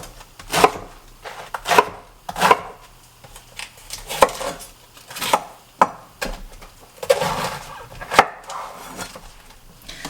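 A knife chops through cabbage leaves on a cutting board for sauerkraut, about a dozen crisp, close cuts falling in an uneven rhythm with short pauses between them.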